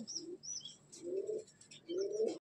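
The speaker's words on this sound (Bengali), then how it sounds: "এই হলো দাদার শাহজাহানপুরের পায়রা, আমার খুব পছন্দ লেগেছে এই পায়রা দুটো" Shahjahanpuri black-and-green pigeons give three soft, low coos in a slow sequence, close by and fairly quiet, with faint higher chirps from other birds in the background.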